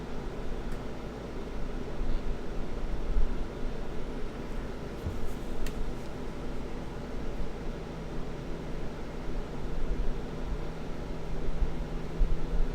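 An air conditioner runs in a hot room as a steady, faint broadband hiss and hum, continuous and unchanging in the background, with no speech.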